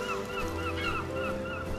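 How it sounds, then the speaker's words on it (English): Seagulls calling in the video game Rime, several overlapping squawking cries over a steady ambient wash, fairly close and continuous, no talking. "Well, there's seagulls. Lots of seagulls."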